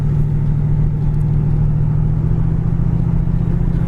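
A 1978 Pontiac Trans Am cruises down the road, its engine giving a steady, loud low drone with constant road rumble from inside the car and no talk.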